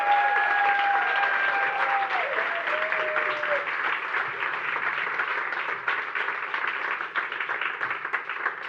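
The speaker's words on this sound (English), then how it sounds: "I want a big round of applause for Karolina, Niklāvs, Rama," Sustained applause from a conference audience welcoming four young panelists to the stage at a plenary session, a steady dense clatter of many hands filling the room throughout.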